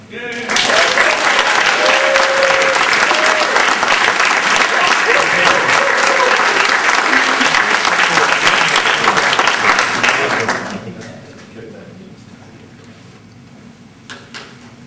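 Sustained applause from an audience welcoming a lecturer to the pulpit, loud and dense for about ten seconds before quickly dying away into quiet room tone.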